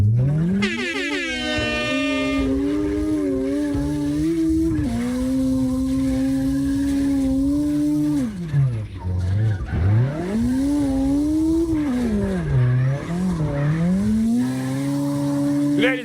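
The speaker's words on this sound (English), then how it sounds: "You want to hear them engines roar." Drift car engines roar and rev continuously in the CarX Drift Racing Online video game, loud and close, with the pitch climbing and falling sharply as the cars slide through corners.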